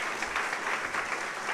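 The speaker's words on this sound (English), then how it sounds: "Please give them a big round of applause." Audience applause at a Universal Brotherhood Day celebration after a yoga students' performance, a dense steady patter of many hands clapping, moderately loud and continuous throughout the short stretch.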